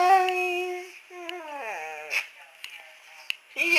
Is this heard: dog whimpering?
yes